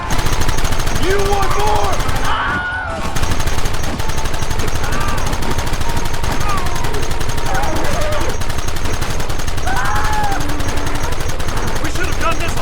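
Relentless gunfire in the PS3 game Red Dead Redemption, rapid machine-gun-like volleys rattling continuously at high volume while voices shout over the battle.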